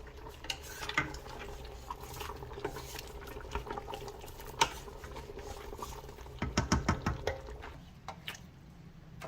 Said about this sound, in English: That fat is breaking down really good now.